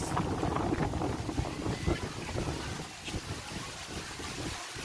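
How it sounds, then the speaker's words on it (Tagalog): Strong wind roars and buffets the microphone in uneven gusts, a loud blustery rush that eases slightly toward the end. "Lakas ng hangin."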